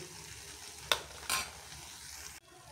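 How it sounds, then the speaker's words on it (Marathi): Balushahi deep-frying in oil, turned to the other side, with a soft continuous bubbling fry broken by two brief sharp splashes or crackles before the sound drops away. "आता दुसऱ्या साईडलाच आपण तळून घेऊ."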